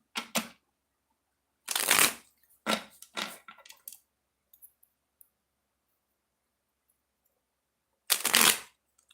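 Tarot cards are shuffled in several quick riffling bursts close by, separated by pauses with faint handling clicks.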